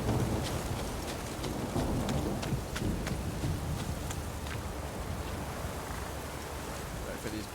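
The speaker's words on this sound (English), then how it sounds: "A storm, damn it." A thunderstorm with steady heavy rain in The Witcher 3, a constant wash of rainfall with sharp crackling strikes scattered through it, loud and continuous with no clear voices on top.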